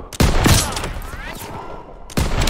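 Dense gunfire from a World War II video game battle, a sustained volley of rapid shots with bursts near the start and end, loud and close, with faint voices shouting among the shooting.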